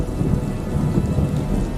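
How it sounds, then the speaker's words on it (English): Steady rain pours down with low rolling thunder rumbling beneath it, a dense, continuous storm wash that stays even and fairly loud from start to finish. "the dark swollen clouds began to drizzle their heavy burden"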